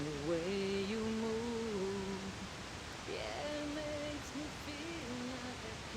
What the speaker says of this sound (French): j'ouvre mon bruit rose